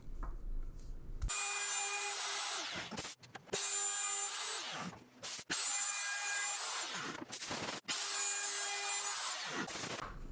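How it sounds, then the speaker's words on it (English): A router cuts into a wooden dust chute in four loud, close bursts, each pass a high whining rasp separated by short pauses as the tool is repositioned. "go ahead and route this side of the actual dust chute. I'll repeat this process on all sides of the dust chute."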